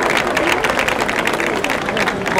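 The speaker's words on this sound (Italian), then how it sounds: "Un applauso, grazie." An audience at a Miss Blumare pageant claps for an introduced guest, a dense, loud patter of hands with some talk mixed in underneath.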